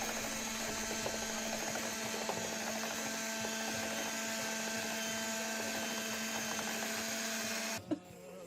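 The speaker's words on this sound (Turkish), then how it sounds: "3 yumurtayı ve yarım su bardağı şekeri mikser yardımıyla karıştırarak köpük köpük olana dek çırpıyorum" A steady electric mixer whips eggs and sugar, whirring continuously for several seconds, then cuts off abruptly with a brief click near the end.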